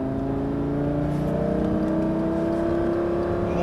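A Lamborghini's engine drones at high, steady revs while lapping the Sambuc race circuit, a loud continuous whirring roar heard from inside the car, holding constant throttle with a slowly rising pitch.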